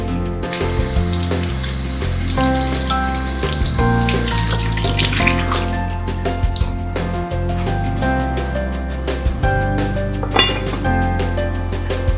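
Tap water runs into a kitchen sink to soak artichokes, a loud, steady splashing stream with background music playing throughout.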